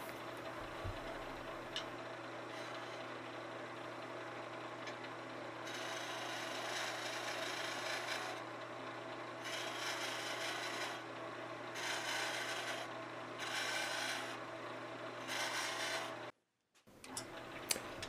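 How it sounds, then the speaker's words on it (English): A skew chisel roughing already-round wood on a lathe gives a steady, close, continuous rasping scrape that swells and eases in long passes as the tool moves along the work, briefly cutting out near the end. "We start with the skew rubbing the bevel, since this work is already round. Then we move the skew down and forward at the same time."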